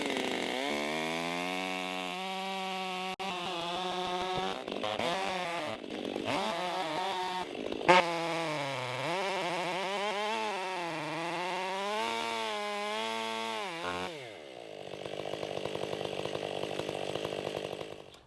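A chainsaw roars steadily through a log, its pitch bending up and down as the bar bogs and recovers in the cut, with a brief dip near the end before the engine surges loudly again.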